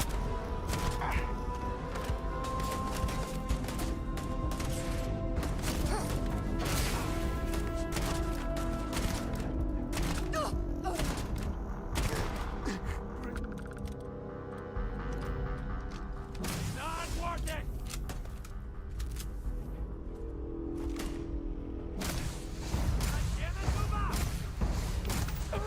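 Video game gunfire comes in sharp, uneven bursts and thuds amid a dense, busy soundtrack, with a person talking over much of it.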